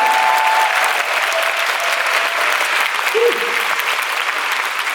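Sustained audience applause fills a musical concert hall, a dense, steady wash of clapping from a large crowd that holds at even loudness throughout, with a brief tonal sound rising through it.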